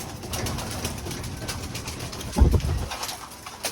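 Pigeons coo softly in the background, with a brief louder flutter or rustle midway; no one speaks.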